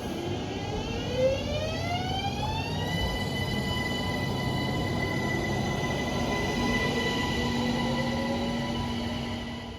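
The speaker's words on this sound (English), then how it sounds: "That train was late. 3 minutes late." A train in Austria near Kitzbühel passes close by with a rising, then steady humming whine over rolling rail rumble, sustained and fairly loud throughout, with no voices.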